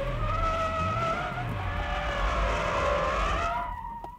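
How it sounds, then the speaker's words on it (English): A car drifts through a corner with its engine revving, tires skidding and squealing continuously for several seconds before the noise drops away at the end. "That's how you keep control and drift with understeer."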